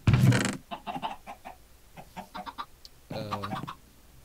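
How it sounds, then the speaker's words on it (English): Minecraft chickens cluck in a string of short, close calls, with a brief loud burst at the start and another near the end. "Why are there so many chickens here?"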